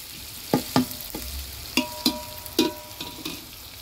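Okra (ladyfinger) frying in oil in a pot, with a steady soft sizzle and about a dozen sharp clanks from a utensil stirring against the pot, close up and with no talking.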